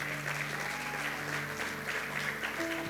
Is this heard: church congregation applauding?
yes